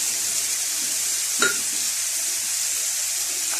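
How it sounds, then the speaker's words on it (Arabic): Tomatoes with a spoonful of tomato paste and salt sauté in a pan, a soft continuous sizzle with one brief stir or scrape partway through. "وهتبدا كده الطماطم تتشوح معانا"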